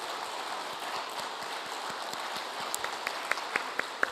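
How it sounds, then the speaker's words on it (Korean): A church congregation claps together in a loud, dense burst of applause, steady throughout with a few sharper individual claps standing out near the end. "우리 모든 대원들 수고하셨다고 우리 한번 큰 박수 한번 하겠습니다"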